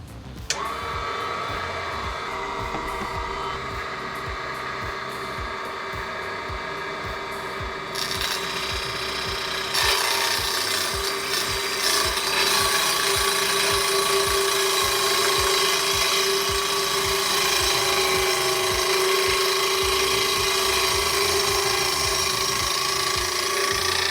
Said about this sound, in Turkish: Şimdi bu testeremle tahta parçasını kesmeye çalışacağım